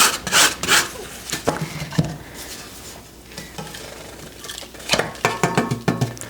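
A plastic or silicone spatula scrapes freeze-dried eggnog loose from a Harvest Right freeze dryer tray in uneven bursts of rasping, rubbing strokes, some sharp, with quieter gaps between.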